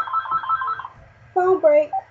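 A telephone rings indoors in a home setting, two bursts of a bright electronic ring, the first longer and steady, then a pause and a louder second burst.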